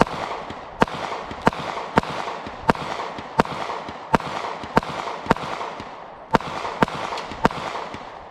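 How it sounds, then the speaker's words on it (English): A Smith & Wesson SD40VE .40 caliber pistol fires about a dozen sharp shots in a steady, evenly spaced string, each crack standing out over a low background hiss. "So switching over now to the SD40VE, which I have the most time on out of all 3 of these guns."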